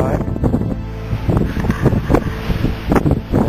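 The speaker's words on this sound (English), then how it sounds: "And it is cold" Cold wind gusts across a snowy mountain summit on a hike, rushing in uneven surges with muffled voices talking under it.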